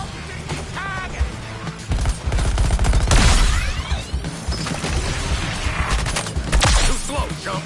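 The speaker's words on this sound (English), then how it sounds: "Calm down, Deadshot, mate. I'll shoot your target." Gunfire in the Suicide Squad: Kill the Justice League video game, loud rapid bursts with crashes, impacts and whooshes mixed into a busy, dense combat soundscape.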